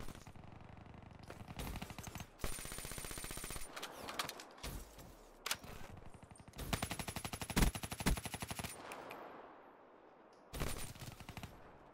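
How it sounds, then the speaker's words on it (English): Bursts of automatic gunfire in a video game, fired at the player from behind, come in repeated loud volleys with short gaps between them, and a final burst follows near the end. "I'm getting shot in the back"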